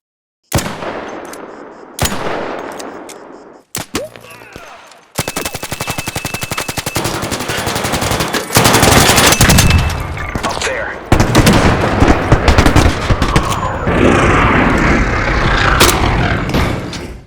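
Gunfire from the video game ARC Raiders: a few sharp single shots with echoing tails, then long loud bursts of rapid automatic fire separated by brief pauses, close and forceful, no voices.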